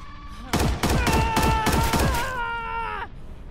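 Heavy shotgun blasts in the sci-fi video game The Expanse: A Telltale Series, about five loud close booming shots in a fast rhythm, followed by a ringing metallic tone that fades.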